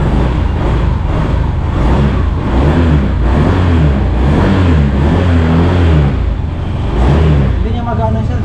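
A Yamaha NMAX 155 Tech Max Turbo scooter engine runs and revs loudly nearby, a steady buzzing drone with rising and falling pulses, while people talk over it.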